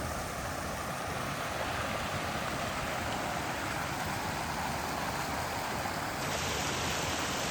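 A river flowing through woodland near Beeley Woods and Oughtibridge, Sheffield, gives a steady, broad rush of water, continuous and fairly close, with no voices over it.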